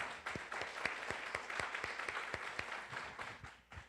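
A church congregation claps and applauds steadily at a distance, a soft continuous patter of many hands throughout.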